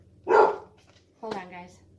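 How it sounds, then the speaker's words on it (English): A dog indoors gives two loud barks about a second apart, the first sharp and short and the second a little longer with a wavering tone. "What's she barking at?"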